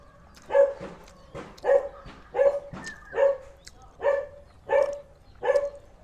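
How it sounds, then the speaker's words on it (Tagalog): A dog barks repeatedly, about seven sharp barks spaced roughly a second apart, fairly close and clear with no talking. "Si Aki nakakita na naman ng ibang aso."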